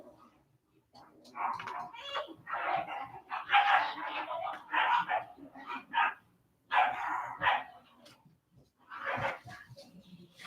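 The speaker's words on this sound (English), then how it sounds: "excuse my crazy loud dogs in the other room, barking like crazy" Several dogs bark loudly in another room, in dense overlapping bursts that come and go across about ten seconds, with brief quieter gaps between volleys.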